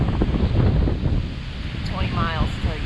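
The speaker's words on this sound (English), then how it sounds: "a little windy" Strong gusts buffet the microphone on the Kilkenny Ridge Trail near Mount Waumbek, a loud continuous roar with a brief voice heard partway through.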